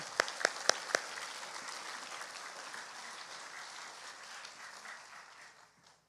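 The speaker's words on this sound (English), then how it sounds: "I would like to give all of them a round of applause yet once again." A school audience at an elementary awards ceremony applauds honor roll students: a few sharp, close claps at the start, then a steady wash of clapping that slowly thins and fades out at the end.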